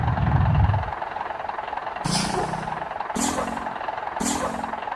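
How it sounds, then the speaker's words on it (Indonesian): A Scania K410 bus air brake in Bus Simulator Indonesia hisses in several sharp releases, each a short burst of air over a low idling engine rumble. "coba suara rem ya"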